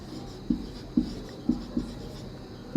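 A pen writes logic notation by hand, giving five soft, evenly spaced taps and short strokes at roughly half-second intervals, close and quiet over faint room noise, with no speech.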